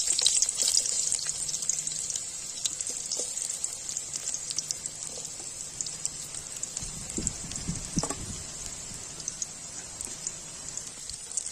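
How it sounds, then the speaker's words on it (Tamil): Sliced onions hit hot oil in a pan for egg Manchurian, giving a continuous bright, crackling sizzle close by, with a few clanks of a spoon partway through. "வெங்காயம் ஆட் பண்ணிக்கலாம்."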